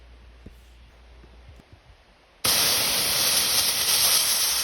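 Pepper spray canister fires a sustained blast at a target, a sudden loud broadband hiss that starts abruptly after quiet and holds steady to the end.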